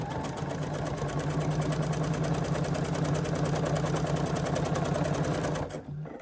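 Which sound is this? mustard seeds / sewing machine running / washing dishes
sewing machine running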